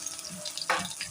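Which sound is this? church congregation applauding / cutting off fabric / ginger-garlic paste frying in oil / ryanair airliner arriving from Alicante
ginger-garlic paste frying in oil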